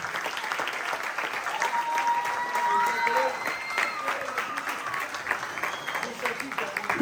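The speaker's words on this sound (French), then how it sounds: "Vous pouvez les applaudir." An audience at a year-end judo and jujitsu school show applauds steadily for several seconds, moderately loud clapping with a voice or two and a whistle-like tone rising briefly above it.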